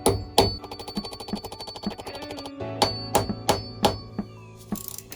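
Hammer taps a socket onto a bolt of a ZX14R motorcycle being rebuilt, a string of sharp metallic ringing strikes, close and loud, at uneven intervals alone without talk.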